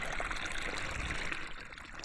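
Water trickles steadily into a hole along a Montana jeep trail near the Highland City ghost town, a soft continuous dribbling stream heard faintly in the open.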